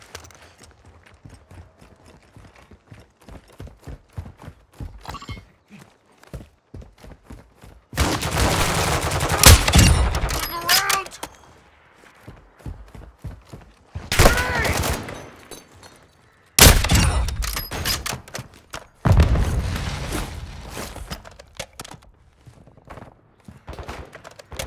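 Gunfire in the Call of Duty DMZ video game comes in several loud, dense bursts of rapid shots, separated by quieter stretches of faint clicks and movement.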